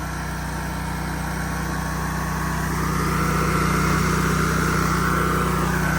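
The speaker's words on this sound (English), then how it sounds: "Now I can speed it up. The mill's coming back." A Hud-son Oscar 336 sawmill runs with a steady, loud, droning engine hum that rises slightly partway through and holds constant, with no voices.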